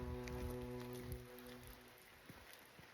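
Steady rain patters on the surroundings along a hiking trail, a soft continuous hiss with scattered drops and a faint low hum beneath.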